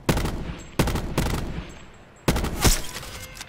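Automatic gunfire in Call of Duty: Black Ops 4, three dense bursts of rapid shots, loud and close, separated by brief gaps, with the last burst longest.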